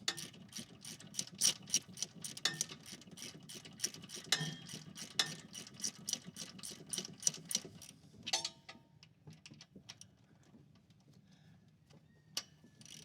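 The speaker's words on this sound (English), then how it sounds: "I'm gonna put a ratchet on the crank. We're gonna spin it over" A ratchet wrench on the crankshaft turns over a worn truck engine, giving a quick run of faint, close clicks that thin out into scattered ticks and clunks.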